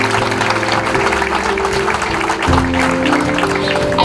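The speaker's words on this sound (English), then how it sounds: "Let's have another round of applause." Crowd applause at a downtown clock dedication ceremony in Wadsworth, a dense steady clatter of clapping that runs throughout, held under a low sustained tonal hum.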